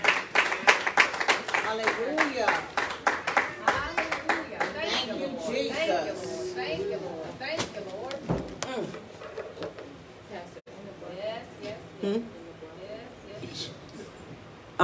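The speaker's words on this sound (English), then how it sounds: "Clap your hands if something you heard makes sense to you." A church congregation claps their hands in a rapid burst of close, sharp claps that thins out, while voices talk over and after it.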